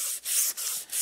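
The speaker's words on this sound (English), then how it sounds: "Now you'll notice that I am sanding in the tung oil." Sandpaper rubbed over a wooden herringbone cutting board to work in tung oil, heard as loud, close, rhythmic back-and-forth strokes, four sweeps broken by short pauses.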